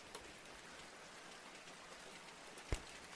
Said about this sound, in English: You try to focus on the gentle sounds of the rain outside your window.